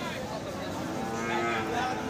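Crossbred bull cattle moo at a busy livestock market, a long low call rising over the steady crowd noise, with people talking nearby.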